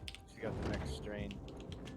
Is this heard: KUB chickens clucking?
no